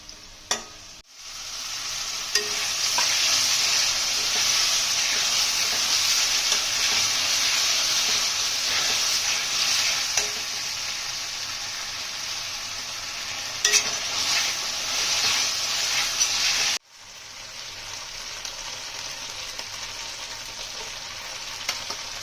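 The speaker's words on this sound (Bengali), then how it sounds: "আমাদের পেঁয়াজগুলো ভাজা ভাজা হয়ে এসছে, একটু আদা রসুনের পেস্ট দিয়ে দেবো।" Ginger-garlic paste hits browned onions in a hot pan for a chicken curry, giving a loud, steady sizzle with light stirring that breaks off briefly near the end.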